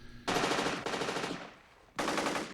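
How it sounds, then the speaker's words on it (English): Loud, rapid bursts of exaggerated automatic gunfire from the film Total Recall in three long volleys with a brief gap, harsh and rattling like a jackhammer. "the gunfire in the next scene has an exaggerated edge, sounding more like jackhammers than guns"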